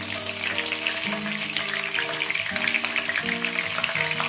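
Cumin seeds and green chillies sizzle in hot oil for a chicken curry, a steady dense crackle that holds evenly throughout while a low tonal hum runs beneath it, no voices.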